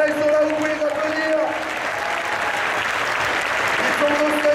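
A crowd at the Stunfest 2015 Ultra Street Fighter 4 team final applauds two Korean players, a steady wash of clapping with cheering and sustained tones from the venue underneath.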